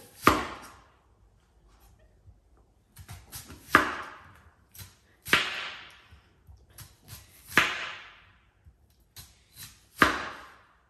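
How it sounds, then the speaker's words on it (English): A chef knife chops through onion on a cutting board in sharp, spaced strokes, roughly five firm thwacks with softer taps between them, close and alone with no talking. "Get your onion and your chef knife. Start cutting."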